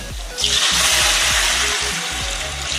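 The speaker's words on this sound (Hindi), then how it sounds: "गोश्त को हमने देखिए अच्छे से भून लिया। और मैं इसमें यखनी ऐड कर दूँगी।" A loud hiss and crackle bursts up as meat stock hits fried meat in a pan, sizzling steadily with faint scraping underneath.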